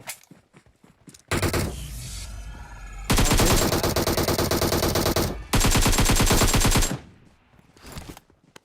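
M249 machine-gun fire in the PUBG Mobile video game: long, dense automatic bursts, loud and close, broken by a short pause, with faint footsteps before and after.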